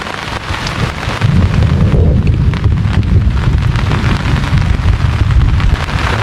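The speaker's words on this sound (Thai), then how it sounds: "ฟ้าร้องดังมาก" Heavy rain pours steadily at a campsite while deep thunder rumbles loudly throughout, a dense storm roar with no voices.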